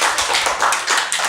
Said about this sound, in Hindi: चलिए जोरदार तालियां स्नेह के लिए